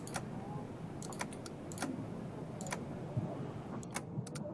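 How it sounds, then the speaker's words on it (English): Quiet computer keyboard typing in short, irregular bursts of clicks over a faint, steady background hum. "And yes, typing is hard."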